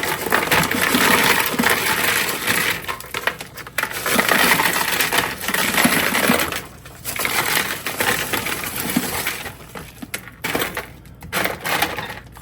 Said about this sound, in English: Okay, another bag of ice, and we'll put some salt in.